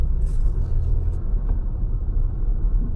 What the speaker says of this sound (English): slowly take out the vehicle from the parking